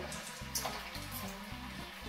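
Soft, steady sizzling of homemade tater tots frying in a pan over medium-high heat, a faint crackle throughout with no talking.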